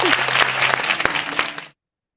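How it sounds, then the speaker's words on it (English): A summit audience breaks into applause to welcome the next speaker at an AI conference, with dense, steady clapping that holds loud for under two seconds before cutting off abruptly. "Round of applause."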